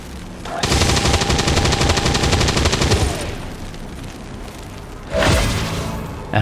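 A grenadier fires at a Stun Lancer in XCOM 2 War of the Chosen, a loud sustained burst of rapid automatic gunfire for about two and a half seconds, then a brief second shot with no talk.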